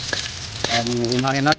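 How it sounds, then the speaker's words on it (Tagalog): Beef innards sizzle and fry steadily in their own rendered fat in a pan, a close, continuous crackle while someone speaks briefly over it. "Na igigisa natin sa sarili niyang mantika."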